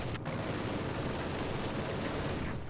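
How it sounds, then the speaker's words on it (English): Dense gunfire in the World War II strategy game Company of Heroes 2, a continuous wash of overlapping shots and bursts that holds at a steady loudness throughout. "Infantry shooting at us!"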